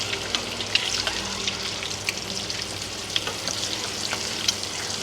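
Egg tomato curry being stirred in a pan as it cooks, with a soft continuous sizzle of frying and scattered scraping clinks of the spoon against the pan, close and steady with no talking.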